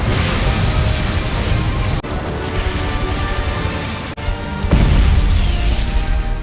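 A loud, sustained roaring blast that fills the whole range, broken by two brief dips before surging again even louder.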